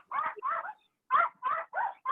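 A dog gives a run of short barks and yips in two bursts separated by a brief pause, close and fairly loud, with no talking over them.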